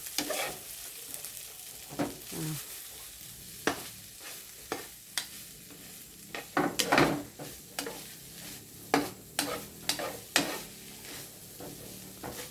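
Fried rice is stir-fried in a pan by a child cooking it herself, with a low background sizzle punctuated by irregular clattering scrapes and knocks of a spatula against the pan.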